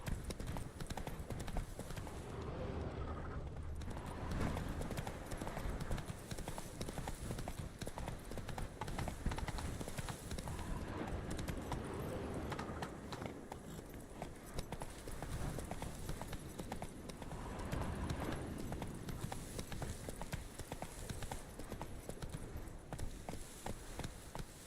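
A horse gallops steadily across the terrain in The Witcher 3: Wild Hunt, its hooves beating in a continuous rapid rhythm under faint game ambience, with occasional speech.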